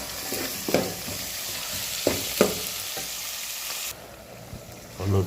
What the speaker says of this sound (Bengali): হলুদ মরিচ কষাইতে আছি